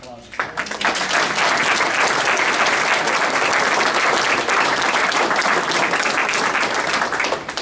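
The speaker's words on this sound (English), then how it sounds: "I think we owe them a round of applause." Loud audience applause at an Eagle Scout award meeting for the families of three Eagle Scout recipients, swelling quickly to a dense, sustained round of clapping that continues at full strength to the end.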